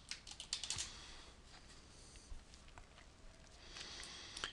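Quick, light taps on a computer keyboard come in short bursts with small pauses, close by and fairly quiet, with no one speaking.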